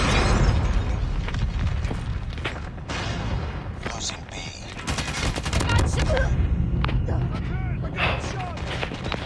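Rapid gunfire in a Call of Duty Mobile ranked match, bursts of automatic shots and booms overlapping throughout, with a voice talking over the shooting.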